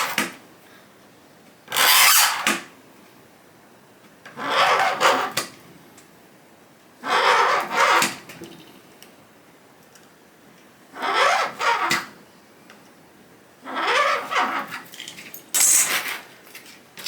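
A blade saws through a sheet of high impact polystyrene in five or six separate rasping bursts, each a second or two long, with quiet pauses between strokes, close and fairly loud.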